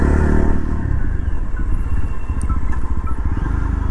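A Yezdi Roadster motorcycle accelerates close by, its engine note building into a loud, rapid pulsing thrum with rattly mechanical clatter, heard alone without talk.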